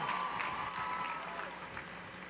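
A commencement crowd at the University of Houston applauds Governor Schwarzenegger, a dense, steady wash of clapping from a large audience that slowly eases off.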